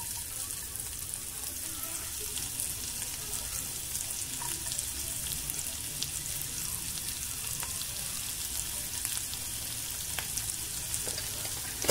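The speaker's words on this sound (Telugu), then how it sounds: "మీడియం ఫ్లేమ్లో పెట్టుకొని వేయించుకోవాలి" Onions frying with cumin seeds and a little ginger in a pan over a medium flame: a steady, even sizzle that holds at one level throughout, with no voices.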